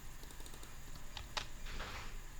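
Light clicking keystrokes on a computer keyboard as a command is typed, a few soft taps followed by a short burst of keys, quiet and close.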